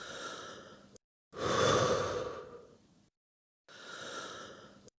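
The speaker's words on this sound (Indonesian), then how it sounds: "Lalu tarik napas dalam-dalam dan hembuskan." Deep breaths drawn in and exhaled, a sputum collection breathing technique: an airy breath, a longer and louder exhale with a faint sigh, then another breath, each separated by silence.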